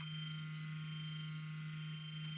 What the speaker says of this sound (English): Listen to that static.